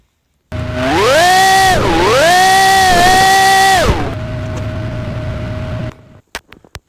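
A car in the Drive World video game sounds off in a loud, harsh engine rev that rises twice and drops back, then holds a steady idle before cutting off with a few clicks.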